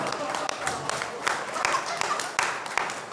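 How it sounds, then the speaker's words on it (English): Crowd applause for robot fighters at a live robot combat event in a Sheffield venue, a brief burst of dense clapping with sharper individual claps standing out, fairly close and loud throughout. "That is round of applause for our Roboteers"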